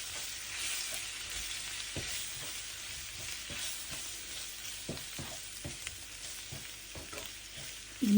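Curry chili powder and spices sautéing in a pan, a dense, even hiss of frying that runs throughout, with occasional soft knocks and scrapes from stirring and no voices.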